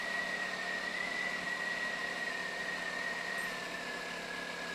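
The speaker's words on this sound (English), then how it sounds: "on a beautiful 1960s styled motorcycle" A 1960s-style BSA Bantam, a vintage British motorcycle, runs steadily out in the Yorkshire countryside, its engine holding an even, continuous drone with a faint whine through the whole stretch.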